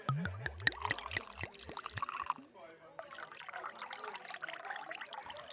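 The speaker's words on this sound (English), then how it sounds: "I'll pour myself a brandy to toast your good fortune" Brandy poured into a glass, a short gurgling trickle of liquid filling it, close by and fairly soft, with people talking around it.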